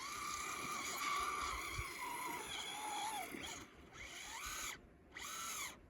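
A Traxxas Slash 4x4 VXL RC car drives across a patch of snow, its motor whining steadily near the microphone and rising and falling in pitch as it revs before getting stuck.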